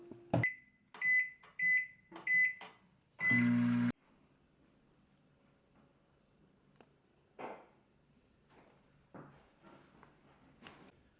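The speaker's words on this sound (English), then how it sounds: "now you put this in the microwave" A microwave oven gives a few short beeps near the start, then a steady hum runs for a moment before falling to quiet, with faint clicks and rustles afterward.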